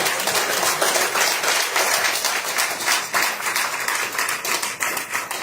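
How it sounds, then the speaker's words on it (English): A small crowd at a women's football team signing day claps for the coaching staff, a steady, busy patter of hands from nearby that carries on without pause and without talk. "clap it up for them now"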